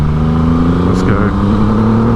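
A 2021 Triumph Rocket 3 R motorcycle pulling hard under acceleration on an afternoon ride, a loud continuous engine drone with steady harmonics, joined by a brief exclamation from the rider.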